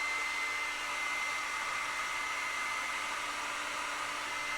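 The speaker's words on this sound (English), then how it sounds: "Hairdryer warning" A hair dryer runs steadily for the whole stretch, a loud, constant broadband whoosh with a faint high whine, no voices over it.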